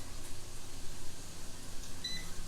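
A single short electronic beep from an air fryer control panel as the temperature is set, heard over a steady background hum in a home kitchen.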